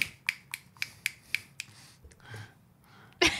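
Around half a dozen crisp finger snaps in a quick, uneven rhythm, close to the microphone, followed by softer rustling and one louder snap at the end, with no speech.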